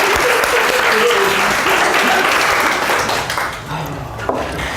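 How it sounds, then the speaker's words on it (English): A crowd at a motivational talk gives a loud, steady round of applause for a group of boys, the clapping close and full before tapering near the end with a voice breaking through. "Give a round of applause, guys"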